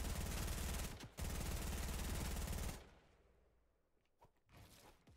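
Drill tunneling through terrain in a video game gives a loud, dense, rattling grind that breaks briefly near the one-second mark, resumes, then cuts off, leaving quieter scattered noises.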